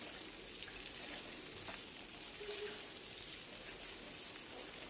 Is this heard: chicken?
yes